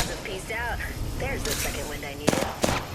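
Gunfire in the Apex Legends video game: two sharp, loud shots near the end of a short stretch where someone talks excitedly over game sounds.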